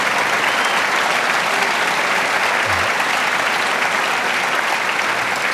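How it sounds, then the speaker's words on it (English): A large audience at a speech at the Ronald Reagan Library applauds in a loud, continuous wash of clapping that holds steady throughout, with no speech over it. "you're applauding, and the Dodgers lost that game"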